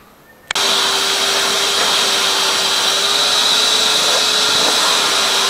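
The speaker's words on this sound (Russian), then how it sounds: "Кот у нас крайне бурно на пылесос реагирует." A household vacuum cleaner switches on abruptly after a short quiet moment, then runs as a loud, steady whine and whoosh with a sustained tone, close by and alone.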